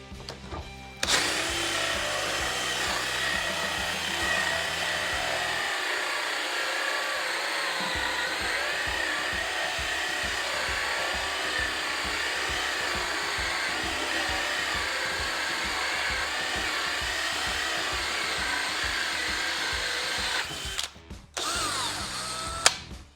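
A DeWalt 18V brushless hammer drill bores with a 54mm Forstner bit, whirring loudly and steadily at speed 3 for about twenty seconds with a brief dip in load partway through, then stopping with a few clicks, with no talking.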